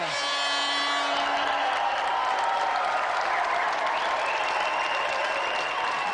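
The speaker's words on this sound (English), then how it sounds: "let's have another round of applause for Matthew Frary and our special guest, Ror" Sustained applause from a large TV studio audience, steady and fairly loud throughout, with faint cheering mixed in.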